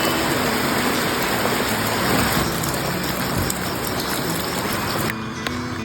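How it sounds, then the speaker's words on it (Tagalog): Heavy rain pours steadily outside a tree house, a loud dense hiss that fills the whole stretch and eases slightly near the end. "Pero bigla na naman ulit ditong umulan mga kapugi."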